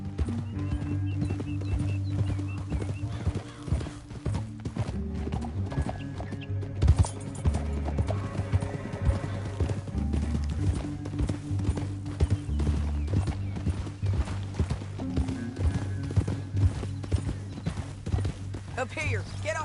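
Horse hooves clip-clop at a steady gallop in Red Dead Redemption 2, running continuously under a bed of game music, with people talking over the ride.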